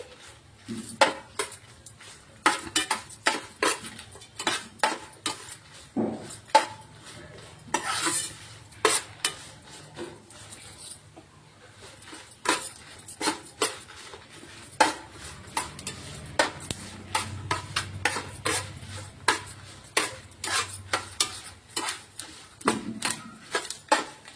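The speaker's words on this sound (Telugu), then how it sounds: "ఇవన్నీ ఆయిల్లో మంచిగా ఫ్రై కావాలండి" Ingredients for gongura pickle fry in oil while a utensil scrapes and clacks against the pan in frequent sharp strokes over a soft sizzle, close and fairly quiet.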